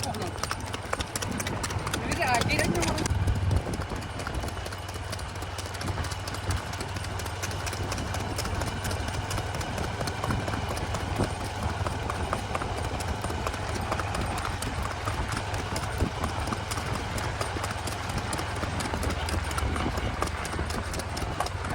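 A ridden mare's hooves clip-clop in a quick, steady rhythm on hard ground, close and continuous, with voices and a low engine hum underneath.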